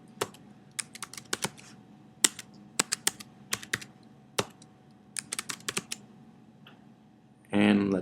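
A new password being typed on a computer keyboard: scattered bursts of sharp, quiet key clicks in irregular rhythm, close up in a quiet room, ending with a brief louder rustle.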